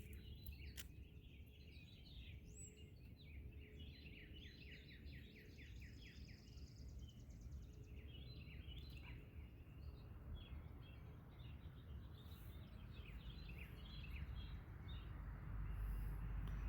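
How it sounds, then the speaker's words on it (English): Birds sing and chirp outdoors, several calls and trills scattered over a quiet, steady background hum, faint and somewhat distant. "just listening to the birds sing"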